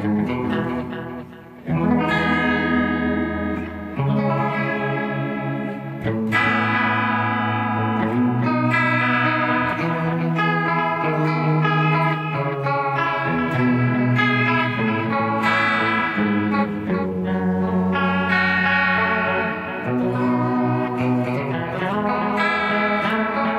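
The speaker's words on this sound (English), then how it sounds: "this is tone number three called Emperor Chorus Tap Tempo." Clean electric guitar through a tap-tempo chorus patch in an 80s glam metal style, playing shimmering sustained chords and arpeggios for over twenty seconds, loud and continuous with a wide, swirling echo.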